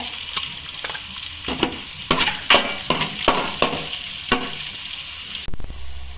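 Onions fry in oil with a bright, steady sizzle punctuated by a run of sharp scraping stirs and clacks, close and fairly loud, with no speech.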